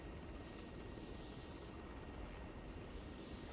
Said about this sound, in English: Resupply will be done in form of this helicopter.